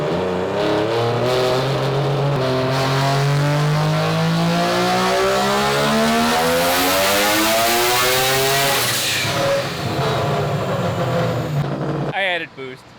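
A turbocharged three-rotor Mazda RX-7 rotary engine on a dynamometer screams through a long, loud pull, its pitch climbing steadily before it lets off and drops away, then cuts out abruptly at the end.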